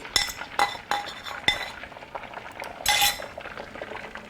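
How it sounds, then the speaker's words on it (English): Beaten eggs being scrambled in melted butter in a pan, heard as sharp metallic clinks and scrapes of a utensil against the pan in irregular bursts, with a soft liquid stir between them. "I have beaten 10 eggs together, and we're just going to scramble them"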